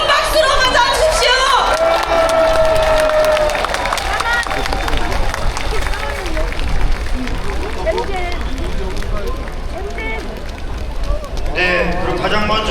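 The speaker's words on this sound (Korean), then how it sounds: "여러분 뜨거운 박수로 맞아주십시오." A large outdoor crowd at a presidential campaign launch rally in Gwanghwamun's Cheonggye Plaza cheers and claps loudly, a dense roar of voices and applause with shouts rising above it throughout.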